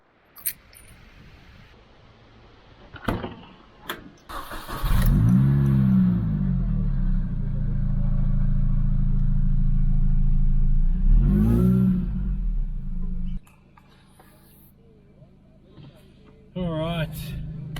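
A Mini Cooper S with an upgraded 15% smaller supercharger pulley drones loudly from inside the car, holding a steady engine hum for several seconds before it drops off, with clicks and knocks before and after.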